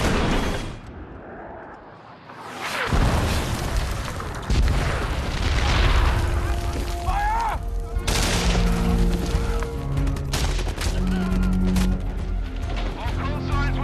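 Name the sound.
artillery and gunfire in Vietnam War film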